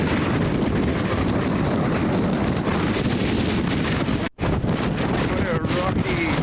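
Strong, constant wind on a rocky, barren mountain top in Tasmania roars and buffets the microphone with dense broadband rumble, broken by one brief dropout near the end.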